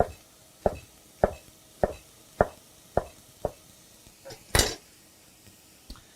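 Cabbage is cut in half and into large slices with a knife on a cutting board, giving about nine sharp, evenly spaced chops, one heavier crunching cut near the end, close and clear with no talk.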